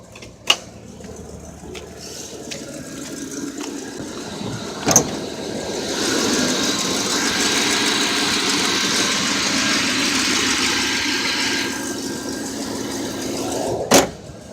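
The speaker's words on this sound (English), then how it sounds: "It doesn't run all that good because it's running on 1-year-old gas from. But hey, the thing runs." A 1992 General Motors truck engine runs rough on year-old gasoline, a steady mid-pitched idle carrying through the middle stretch, framed by sharp clunks like a door or hood at the start, near five seconds and at the end.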